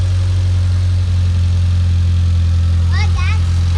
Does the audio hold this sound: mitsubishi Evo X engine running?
yes